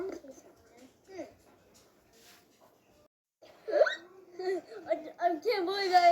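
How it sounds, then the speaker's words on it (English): A child hiccups a few times, short soft gulping catches spaced across a quiet stretch, followed by louder talking and giggling. "I have the hiccups."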